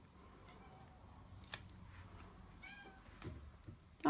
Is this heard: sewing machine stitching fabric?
no